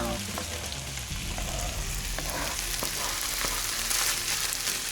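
Onions and peppers fry in a pan for a Hünkar Beğendi dish, with a steady loud sizzle and crackle that runs the whole way through, plus a few faint clinks and no talk.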